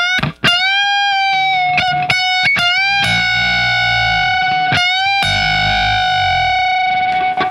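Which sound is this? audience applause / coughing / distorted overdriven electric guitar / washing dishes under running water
distorted overdriven electric guitar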